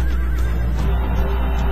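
Horses neighing amid a cavalry battle in the strategy game Rome: Total War, a short whinny rising over a dense, continuous roar of fighting armies, with no talk.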